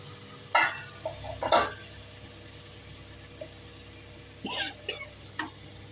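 Ground masala for chicken biryani sautés in a pan, with intermittent scraping stirs and brief sizzling bursts over a quiet background hum.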